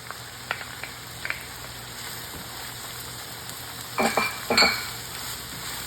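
Minced garlic fries in a pan for ground beef habanera, a soft steady sizzle joined near the end by a few clinks and scrapes of a utensil against the pan.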